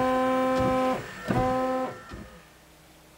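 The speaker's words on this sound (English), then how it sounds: "we'll give the screen washer wipe a try" An electric screen washer pump on an Aixam Mega Multitruck whirs loud and steady in two bursts of about a second each, separated by a short gap, followed by a faint clunk.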